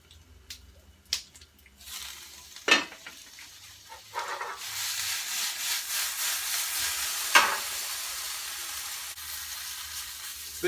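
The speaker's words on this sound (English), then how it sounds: "Bit of stir." Vegetables frying in a cast iron pan with steak, tomato, garlic, bacon, snow peas and broccolini nearby, a soft sizzle rising into a steady fry, with a few sharp scrapes and taps from stirring.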